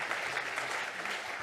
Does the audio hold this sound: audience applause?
yes